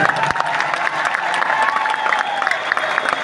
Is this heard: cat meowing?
no